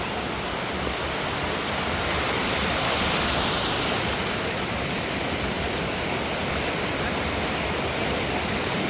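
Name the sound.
Balmuri waterfalls near Mysuru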